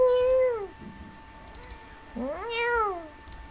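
A cat meows twice at close range, a drawn-out wavering cry followed after a pause by a second rising and falling one, with faint keyboard clicks in the quiet between.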